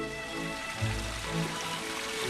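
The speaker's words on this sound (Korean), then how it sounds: "오염되지 않은 자연의 열매들은 개울물로 몇 번 헹궈내면 끝입니다." Mountain stream water runs and splashes steadily while wild berries are rinsed in it, a close, continuous gurgle with no voices.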